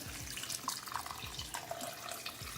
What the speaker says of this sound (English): I'm adding 4 cups of water.